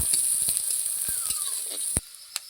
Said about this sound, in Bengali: পেঁয়াজ আর লঙ্কা ভালো করে ভেজে নেব।